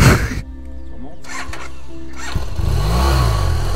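Off-road motorcycle on a trail ride pulls away, its engine rising through a loud, rough rev after a brief idle, with the throttle swelling and falling near the listener as the rider sets off.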